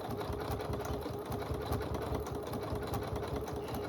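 Close by, a computerised sewing machine hums steadily with a fast, even rhythm of stitching, alone and without any voices.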